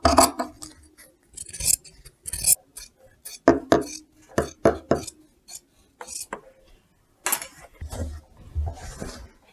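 Scissors cutting fabric on the diagonal for an apron, a series of crisp snipping and rustling strokes in irregular bursts, close to the ear, with short pauses between cuts.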